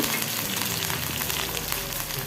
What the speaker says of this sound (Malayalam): ഇനി കരിയേപ്പില ഇട്ട് കൊടുക്കുക എണ്ണയിൽ